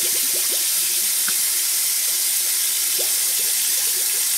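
A repaired Delta single-lever kitchen faucet with sprayer runs in a steady, loud hiss of water streaming into the sink, with faint splashes and knocks underneath and no voices.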